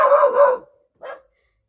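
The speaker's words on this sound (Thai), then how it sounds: "คันเห็นมันก็เห่า" A dog barks nearby, one loud, drawn-out bark followed a moment later by a shorter, quieter yelp, with silence between and after.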